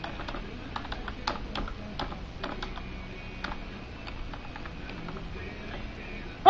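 A computer keyboard being typed on to enter a password: a quiet run of irregular, close key clicks with short pauses between bursts, and no talking.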